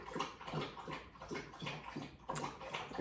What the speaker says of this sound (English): my dog is drinking.